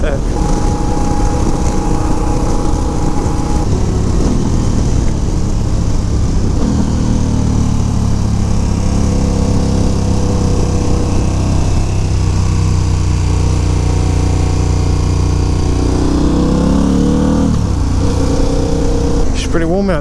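A KTM 1290 Super Adventure R motorcycle underway on a warm day, its engine droning loudly and shifting pitch as it accelerates, mixed with heavy wind rush and a rider talking over it.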